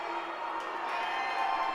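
A fairly faint crowd murmurs with scattered shouts and whoops at a Lewis University versus Roosevelt men's ice hockey game at Canlan as a penalty is called, a steady mixed reaction from the stands.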